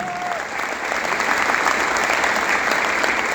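Enthusiastic audience applause for a man named Jitu at a business meeting, a dense continuous wash of clapping that swells slightly and stays loud throughout.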